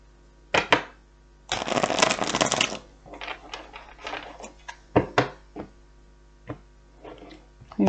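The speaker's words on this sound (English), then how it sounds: "One more shuffle" A deck of tarot cards being riffled and shuffled, a dense burst of papery flutter followed by scattered taps and slaps, close up with no talking.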